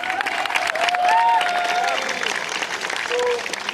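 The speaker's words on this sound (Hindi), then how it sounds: "इसका हम जश्न मनाएं तालियों के साथ।" Applause from a crowd at a political rally in India, a short burst of clapping with some cheering and whistles under a loudspeaker voice.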